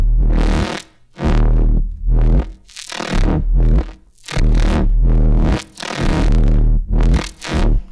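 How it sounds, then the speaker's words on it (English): A synth runs through an Elektron Analog Heat, producing loud, crunchy, distorted bursts that rise and cut off in an uneven rhythm of sweeping, gritty tones, with brief gaps between them. "you can get some pretty crunchy sounds like this"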